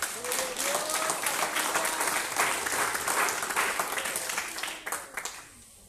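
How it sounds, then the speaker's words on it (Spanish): A large church congregation claps steadily for several seconds during a sermon, a dense wash of applause that fades out at the end. "Denle un aplauso al Señor."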